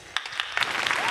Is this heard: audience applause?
yes